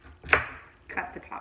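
A kitchen knife cuts the tops off unpeeled, washed carrots for homemade chicken soup, giving one sharp chop near the start and two softer cuts later, close by and fairly quiet.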